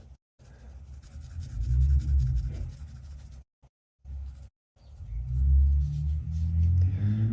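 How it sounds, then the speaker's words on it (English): Noisy cars pass through a residential neighbourhood as a low rumble that swells, drops out briefly and returns louder, while a pencil scratches nearby. "Excuse all the noisy cars"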